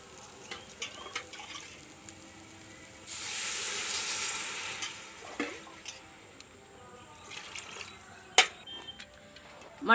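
Water poured into a hot pot of mutton and rice for village-style biryani, a burst of loud hissing sizzle lasting about two seconds amid softer clinks and stirring sounds.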